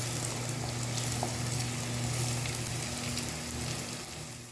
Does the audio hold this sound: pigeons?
no